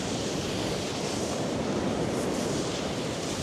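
Surf washing onto the beach at Sandymouth at low tide, a steady broadband wash of breaking waves with some wind rush, continuous and fairly close with no voices.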